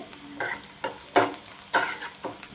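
Onions frying in a pan with tamarind, garlic cloves and sliced ivy gourd for a dondakaya ullikaram curry, heard as repeated bursts of stirring and sizzling in an uneven rhythm, close and fairly loud with no talking.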